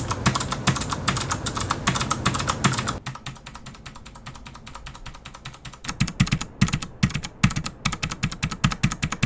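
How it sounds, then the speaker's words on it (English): Mechanical keyboard keys fitted with dampeners clatter in rapid, steady typing, each keystroke bottoming out with a soft, close, fairly loud clack, with a brief lighter stretch in the middle. "Here's how it sounds with a dampener on the key."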